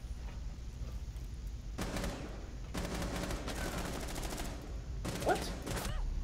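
Gunfire in Rainbow Six Siege on the Yacht map comes in three rapid automatic bursts separated by short quiet gaps, sharp and close over low game ambience.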